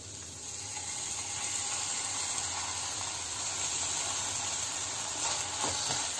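A semolina breakfast mixture fries with tomato sauce in a pan, making a soft, continuous sizzle with faint stirring and scraping underneath.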